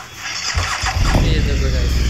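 A KTM motorcycle engine starts in a Los Angeles ramp challenge video game, with a brief cranking burst that catches into a loud, steady low idle rumble.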